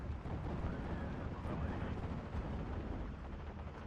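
Artillery shelling in the WWII strategy game Steel Division 2, a steady distant rumble of booming impacts blending into continuous dense low noise without clear separate blasts, no talking.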